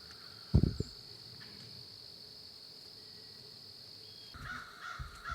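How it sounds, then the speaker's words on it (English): Harsh squawks from blue jays in Missouri woods at evening sound in a short burst near the start and again near the end, over a steady cricket drone. "Squawking blue jays and a lone doe were my only entertainment for my last evening's sit."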